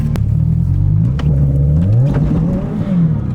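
A Subaru STI engine revs hard toward 8,000 RPM, a loud, close, rising mechanical roar with a wavering pitch that climbs, dips and climbs again, with no talking over it.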